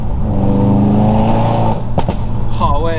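Ford Focus RS Mk3 engine droning steadily up close from inside the cabin with a window open, a few sharp exhaust pops near the end, with a person talking over it.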